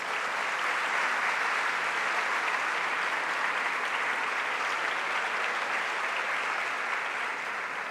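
Steady, dense applause from an audience at a book fair lecture in Santo Domingo, honoring an author, sustained and even throughout without pause.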